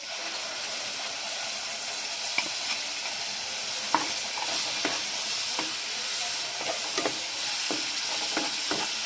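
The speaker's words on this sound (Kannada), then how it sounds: "ಇದನ್ನ ಮೀಡಿಯಮ್ ಫ್ಲೇಮಲ್ಲಿ ಒಂದು 2 ನಿಮಿಷ ಫ್ರೈ ಮಾಡ್ಕೊಳ್ಳಿ." Masala fries in raw oil over a medium flame for an egg curry, a steady close sizzle broken by sharp scrapes and clicks of a spatula stirring the pan, with no voices.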